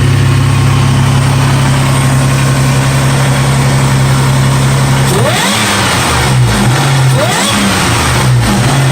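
A supercharged third-generation Toyota 4Runner with a 5VZ V6 and TRD supercharger idles loud and steady up close, then gets blipped into a few quick revs that rise and fall before settling back to idle.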